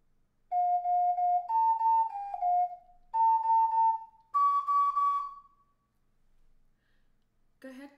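A solo ocarina plays a short phrase of the Gravity Falls theme, five clean sustained notes moving up and down, close and clear, followed by a brief quiet pause and a faint click at the end.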